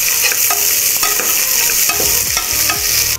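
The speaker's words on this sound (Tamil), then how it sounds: "இப்போ பார்த்தீங்கன்னா நல்லா பொரியிற சவுண்டெல்லாம் வந்திருக்கோம்ல" Sliced onions frying in hot oil for chicken biryani, a loud, dense sizzle close up with quick scraping strokes of a spoon stirring through the pan.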